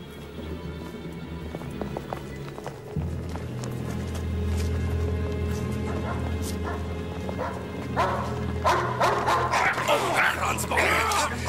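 A dog barks and whimpers amid a busy indoor scene, with hoof-like clopping and voices talking over it, the sounds growing louder and more crowded toward the end.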